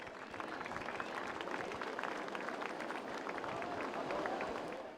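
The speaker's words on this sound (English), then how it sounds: "Round of applause for our runner-up here at the Ballito Pro, presented by Billabong, Davey Cathles." Crowd applause on the final day of the Ballito Pro 2015 surfing contest presented by Billabong, a steady wash of clapping from many hands that holds for the full stretch at moderate distance.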